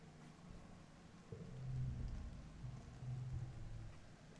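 Steady rain in the video game Exocolonist, a low soft wash of falling water with slightly louder swells midway, alone with no talk.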